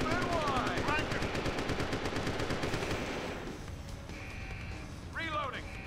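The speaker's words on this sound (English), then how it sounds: "Suppression fire." Sustained automatic gunfire rattles loudly in Deus Ex: The Missing Link, tapering after a few seconds. A voice speaks over the shooting, and short electronic chirps sound at the start and end.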